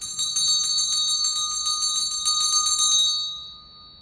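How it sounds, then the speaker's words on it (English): A single struck bell rings out clear and bright, its sustained metallic tone holding steady for about three seconds before decaying away, heard alone without talk. "I'm going to start from the striking of the bell"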